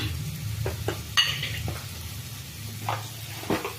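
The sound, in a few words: egg chilli masala frying and being stirred in oil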